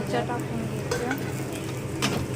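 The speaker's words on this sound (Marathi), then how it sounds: "कढईत टाकलं तेल, कांदा कट करून घेतलेला भाजायला टाकला." Chopped onion frying in hot oil in a kadhai for a methi bhaji, a steady close sizzle with occasional scraping stirs against the pan.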